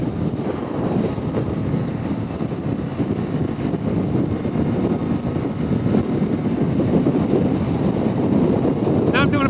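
A Honda Goldwing motorcycle is ridden at speed, a loud, continuous rush of wind buffeting the microphone over a low rumble throughout.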